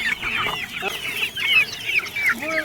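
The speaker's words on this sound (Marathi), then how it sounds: "कसं कोंबड्या खातात बघा" Country hens cluck and chatter close by while eating giloy leaves in a pomegranate orchard, with quick overlapping calls in an uneven rhythm.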